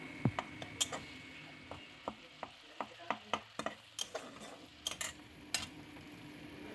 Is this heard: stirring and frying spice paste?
yes